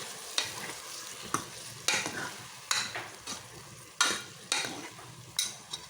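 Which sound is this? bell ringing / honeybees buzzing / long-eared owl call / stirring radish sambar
stirring radish sambar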